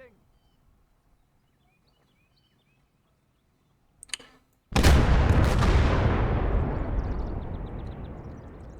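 A 122 mm cannon fires in the Gates of Hell video game after a near-silent wait and a brief clank, one heavy, loud boom followed by a long rumbling decay.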